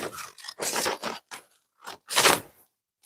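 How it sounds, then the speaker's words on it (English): Several bursts of scissors snipping through material during a live crafting session, close and fairly loud, in irregular strokes separated by short pauses. "Hang on a minute while I just cut myself another section."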